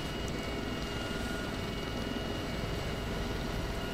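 A helicopter in the video game DayZ Epoch produces a continuous, loud rotor and engine drone that stays steady throughout, with no talking over it.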